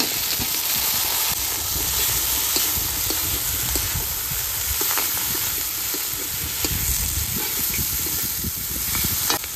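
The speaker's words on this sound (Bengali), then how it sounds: "মাছের তেল দিয়ে একটু ভেজে নিয়েছি, এবার বেগুন দিয়ে দেবো।" Eggplant pieces fry in hot fish oil, a steady loud sizzle and hiss running throughout with occasional stirring scrapes and clinks, close up and without talk.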